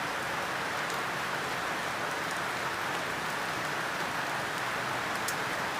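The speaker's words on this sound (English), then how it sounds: "Yeah, that's rain all right." Steady rain falls continuously in an even, dense hiss with faint scattered drop impacts, unchanging throughout and no voices.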